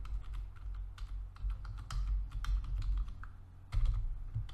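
Fast, uneven clatter of keys on a computer keyboard while coding a basic Java calculator program, close and continuous over a low background rumble, with short pauses between bursts.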